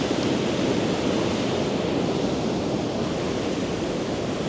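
Seawater surges in over coastal rocks with a constant, rushing wash of surf, a broad and steady roar with no one speaking.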